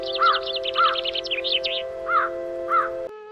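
Morning birdsong rings out: a rapid trilling call and repeated short chirps sound close and clear over a steady electronic hum that drops away just before the end.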